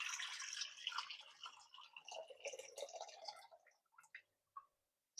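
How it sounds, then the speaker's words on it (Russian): Water being poured off from an opened jar of tomatoes in a kitchen, a close splashing and gurgling stream that thins into a few last drips. "И сливаю воду."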